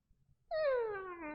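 A person imitates a cat waking up with one long, drawn-out meow that slides down in pitch, close and clear after a brief quiet moment.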